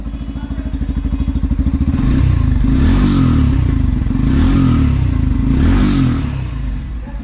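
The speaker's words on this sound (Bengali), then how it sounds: "সাইলেন্সারের সাউন্ড যদি শোনেন" A 2024 Yamaha FZS Version 3 BS6 motorcycle in original condition idles with a steady, loud exhaust thrum, then is revved up two or three times in rising and falling surges, close to the silencer with no talk.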